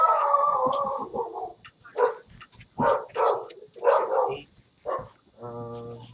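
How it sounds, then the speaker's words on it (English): A dog in the video game Minecraft Pixelmon barks in a run of short, loud, close barks and yips spaced about a second apart, followed by a brief tonal electronic sound at the end. "Now there's a stupid dog in my house."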